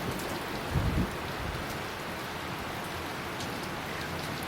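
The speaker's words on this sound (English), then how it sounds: "The sound of the raindrops falling on the leaves" Monsoon rain falling on lush forest leaves and ground around a resort, a dense, even patter with a slightly heavier patch of drops near the start, steady and close throughout.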